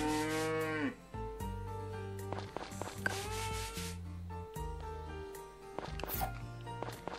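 Cartoonish cattle moos in the farming video game Story of Seasons Friends, several drawn-out calls rising and falling over a steady musical game soundtrack.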